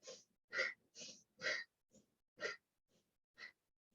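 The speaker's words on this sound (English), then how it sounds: "do the breath of fire. Yeah, equal in an exhale through the nostril rapidly" Breath of fire yoga breathing: a steady series of rapid, forceful exhales through the nostrils, about two per second, close and fairly quiet, with no talking.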